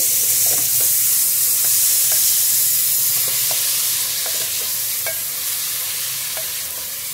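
Beef mince sizzles steadily in a hot pan for keema aloo, a dense high hiss broken by occasional spoon scrapes and clicks, close and loud throughout with no voices.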